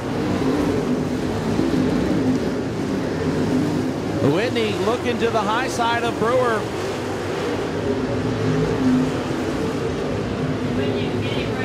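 Super Late Model race cars roar around the Moler Raceway Park oval in heavy traffic, a steady loud engine drone with a brief rising pass near the middle, under continuous announcer commentary.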